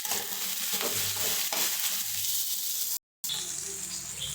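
Spices and tomato sautéing in a pan for a South Indian chicken saaru, giving a steady close sizzle with stirring scrapes throughout and a brief dropout near the end.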